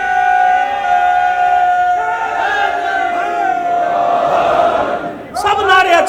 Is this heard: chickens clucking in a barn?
no